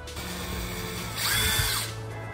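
A power drill whirs continuously while drilling holes in a campervan, rising in pitch and intensity midway as it bites into material, then easing back to a lower hum.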